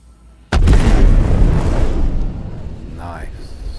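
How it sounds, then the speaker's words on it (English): A ship self-destructs in a space combat video game with a single sudden, loud blast. The booming roar decays over about two seconds into a fading rumble, and a faint voice follows near the end. "That was a nice explosion."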